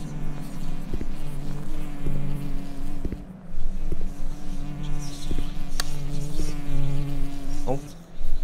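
A fly buzzes close by in the horror game Hollow Head, its drone rising and falling over a low humming ambience, with a few sharp clicks and thuds scattered through.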